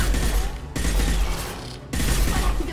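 Sustained assault rifle fire in the game Mass Effect 2, loud and continuous, rattling with only two brief breaks between long bursts.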